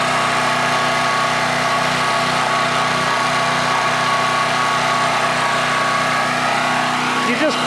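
A portable generator engine runs at a steady, loud, buzzy drone with a constant pitch, close by and unbroken throughout, with a faint change right at the end.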